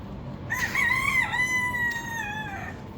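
A rooster crows in a long, drawn-out cock-a-doodle-doo with a rising then sustained wavering call, clear and fairly close over faint background noise.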